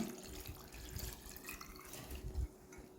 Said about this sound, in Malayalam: ഇതുപോലെ കുറച്ച് വെള്ളം ഒഴിച്ചിട്ട് അവിടെ വെച്ച് കൊടുത്താൽ മതി